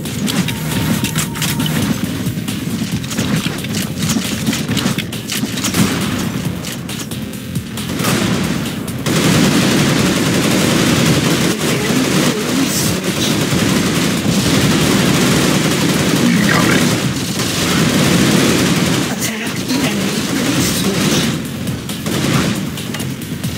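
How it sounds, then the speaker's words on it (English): Heavy gunfire rattles almost nonstop in an Unreal Tournament III Jailbreak match, dense overlapping bursts and booming explosions with only brief gaps, loud and close. "Taking heavy fire!"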